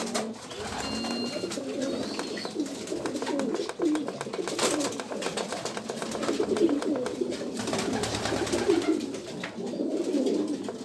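Racing pigeons return to the loft, soft low cooing repeating steadily alongside rustling and fluttering, with a continuous outdoor background and no clear talk.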